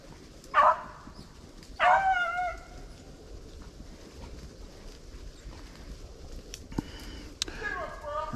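Hunting dogs out in the snow on a swamp rabbit hunt, giving two loud yelping barks near the start and then sporadic whimpers and yips over a low outdoor background, with a few faint further cries toward the end.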